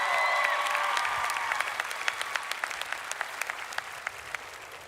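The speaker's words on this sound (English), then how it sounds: "Let's give them all a round of applause." A graduation audience at a high school ceremony applauds for the teachers, dense clapping at first that thins into scattered individual claps as it fades over about five seconds, with some whistles early on.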